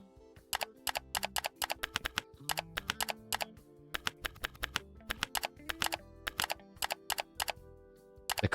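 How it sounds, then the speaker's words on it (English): Rapid bursts of keyboard clicking from the computer game IT Specialist Simulator, clustered keystrokes repeating in quick irregular runs with short pauses, crisp and close, with no voice over them. "The clicking."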